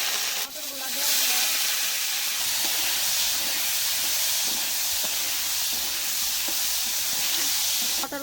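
Green peas frying in oil with chili in a pan give a loud, steady hiss and sizzle that starts after a brief pause and runs unbroken to the end.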